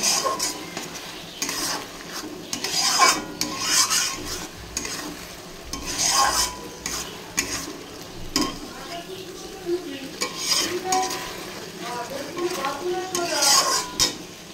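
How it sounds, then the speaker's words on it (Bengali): A spice paste of onion, tomato and turmeric is stir-fried in a pan, with repeated metal spatula scrapes and clinks against the pan over a low, continuous sizzle, close and irregular in rhythm. "ভালো করে মশলাটা কষিয়ে নেব।"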